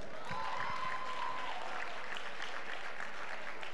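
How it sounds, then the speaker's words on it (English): Audience applause for a keynote speaker at a teen leadership summit, steady moderate clapping from a crowd in a hall, slightly distant and continuous. "Let's give her another round of applause."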